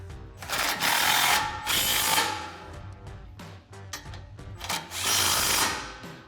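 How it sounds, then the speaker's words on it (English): A power drill or impact driver tightens 17 mm bolts on a front bumper guard for a 2024-2026 Toyota Tacoma, sounding as several loud, close whirring bursts separated by short pauses. "now we can tighten up our 17 mil bolts"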